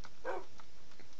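A pet dog in the Minecraft Tekkit modpack gives a single short yip-like bark, fairly faint and alone, with a couple of softer blips trailing after it.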